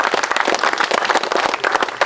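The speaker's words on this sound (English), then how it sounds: "Round of applause." Guests at a wedding ceremony break into dense, lively clapping right after the vows, a loud crowd of many hands with no voices.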